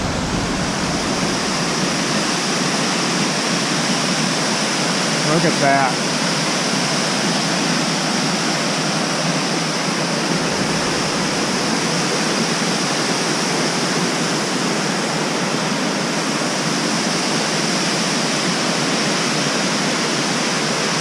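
A waterfall in Kings Canyon National Park roars in a constant, loud, broadband rush, with a brief spoken remark partway through.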